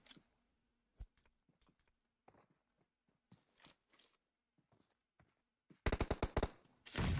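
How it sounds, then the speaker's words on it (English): Gunfire in a competitive PUBG Mobile match: scattered faint clicks and distant single shots, then a loud, rapid automatic burst near the end, followed by one more close volley. "So Zuki here, getting the shots in."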